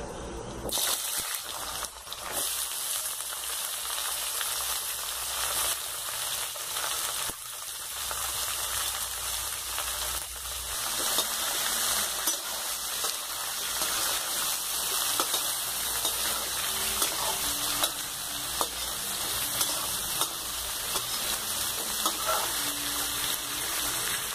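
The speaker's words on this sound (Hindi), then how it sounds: "ये देखिए मेथी अच्छे से भुन चुकी है अब हम इसमें सीताफल डालेंगे" Fenugreek and pumpkin (sitafal) sizzle in a pan while cooking sweet-sour pumpkin with raw mango, a constant loud hiss and crackle running unbroken throughout.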